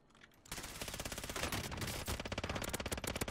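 Gunfire from a single-fire gun in Call of Duty Warzone, a quick run of closely spaced loud shots beginning after a brief quiet moment and continuing steadily to the end.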